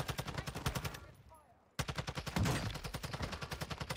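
Automatic gunfire in a shooter video game: rapid, evenly spaced shots rattle in long bursts, stop for under a second, then resume at the same fast rhythm. The shots are close and quiet overall.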